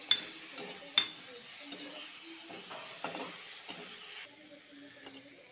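Quiet sizzling of stone-ground spice paste frying in a pan, with a few scraping stirs and light clinks of utensil on metal, no voices.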